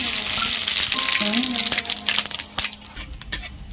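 Dry red chilies, bay leaves and whole garam masala crackle and sizzle in hot oil for a vegetarian navratan korma, with a steady broadband hiss and sharp pops toward the end, close and fairly loud.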